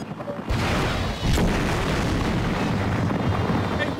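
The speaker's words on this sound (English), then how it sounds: "Our ride gets here safe and sound, and then I shoot it down with a rocket launcher." A loud rocket-launcher explosion from the video game Geist bursts in suddenly and rumbles on as a dense, sustained roar, with a second heavy thump shortly after.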